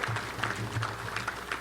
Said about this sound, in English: Let's give Wes Sutton a round of applause